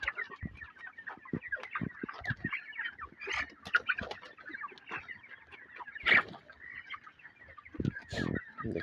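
Chickens on a poultry farm cluck and squawk in short, irregular bursts, several birds close by calling over one another, with a louder squawk standing out partway through.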